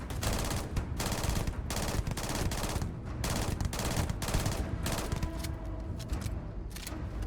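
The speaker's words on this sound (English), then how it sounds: "There's somebody shooting. Somebody's shooting." Gunfire in the sci-fi video game Starfield: dense bursts of rapid automatic shots and sharp cracks, loud and continuous, with short gaps between volleys and no talk.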